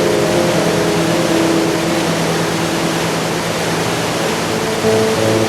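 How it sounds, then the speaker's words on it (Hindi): The swift, clear Mandakini river rushes alongside the Kedarnath hiking trail, a loud, close, unbroken roar of fast-flowing water with no voices. "मार्ग के साथ साथ बह रही है मंदाकिनी।"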